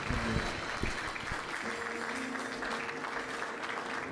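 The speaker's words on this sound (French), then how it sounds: "Können wir für den Herrn applaudieren?" Church congregation applauding steadily throughout, a dense wash of clapping with a few voices calling out briefly near the start.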